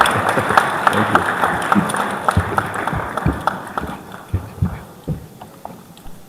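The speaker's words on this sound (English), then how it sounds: "in Ghana, we like to clap until he starts speaking" A conference audience at a health expo opening in Ghana claps steadily, a dense patter of hands that thins and grows more scattered toward the end, with some voices underneath.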